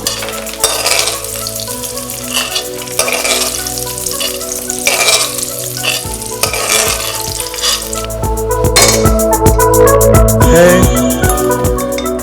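Raisins frying in ghee and stirred in a pan for a bottle gourd halwa, loud continuous sizzling with repeated scraping and clinking of the spoon against the pan, close up.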